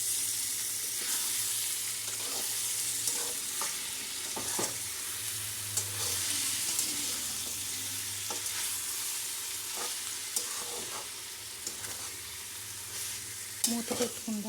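Soya chunks (meal maker) frying and being stirred in a pan, a steady close sizzle with repeated scraping strokes of the spoon throughout, no voices.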